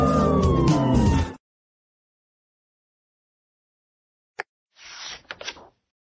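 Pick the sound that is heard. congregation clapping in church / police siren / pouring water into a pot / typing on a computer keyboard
police siren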